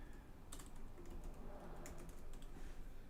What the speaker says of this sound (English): I'll just type in design, t-shirt design.